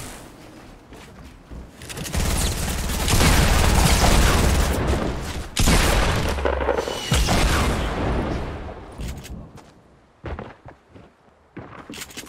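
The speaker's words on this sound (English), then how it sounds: "I have a rocket launcher." Rocket launcher explosions and gunfire in a Fortnite duos match: loud, dense booms and rattling shots build into a sustained barrage, then thin out into scattered bursts and footsteps near the end.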